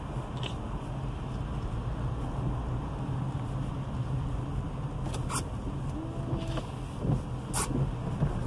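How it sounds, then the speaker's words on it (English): Rush hour car traffic on a highway near exits rumbles steadily, heard from inside a vehicle with a constant low engine and road drone and occasional passing whooshes, without talk. "Don't you love rush hour traffic?"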